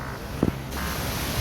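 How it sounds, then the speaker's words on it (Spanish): Wind blows outdoors and buffets the microphone in a steady low rumble and hiss, with a brief soft thump partway through and no speech. "El viento no lo deja volar."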